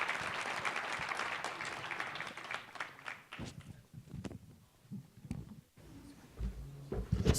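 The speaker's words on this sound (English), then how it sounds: "I'd like you to give them a round of applause for being here on stage and for their presentations" Audience at a natural gas supply presentation breaks into applause, a dense burst of clapping that gradually thins out into scattered claps and shuffling.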